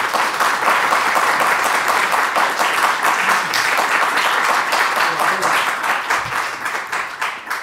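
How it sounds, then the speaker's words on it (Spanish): Warm applause from a seated audience welcoming a speaker to a lecture on the visual arts, a dense, steady wash of clapping that holds at full strength for several seconds before tapering slightly, with faint murmuring underneath. "Recibámosle con un cálido aplauso"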